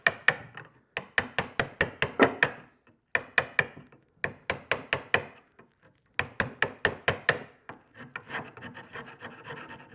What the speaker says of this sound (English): This is actually an old hive tool that I used for my beekeeping days, but it's come in pretty handy as a chisel, a pry bar.